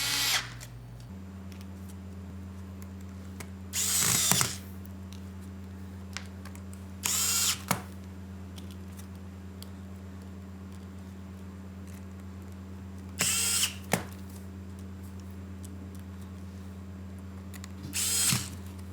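Power screwdriver driving long hinge screws into a Dell 3100 laptop during reassembly, four short whirring bursts spaced several seconds apart over a steady low room hum, close and clear with no talking.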